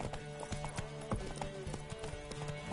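Roach, a horse in The Witcher 3, gallops with a steady, close clip-clop of hooves, the rhythmic beats repeating evenly throughout with light ambient game sound beneath.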